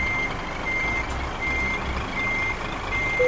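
Truck reversing beeps in the Euro Truck Simulator 2 driving game, a steady series of evenly spaced high electronic beeps over a continuous engine rumble.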